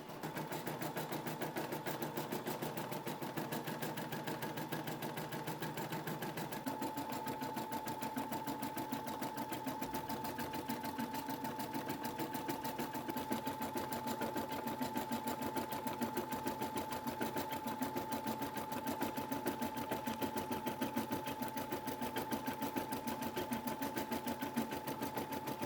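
An embroidery machine stitches a custom patch with a fast, steady mechanical chatter and a constant whirring tone, running unbroken and close for the whole stretch.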